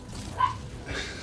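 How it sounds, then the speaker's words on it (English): A pet dog named Roxy gives a couple of brief, muffled barks or yips at a distance against a steady low background hum. "That's my dog, Roxy."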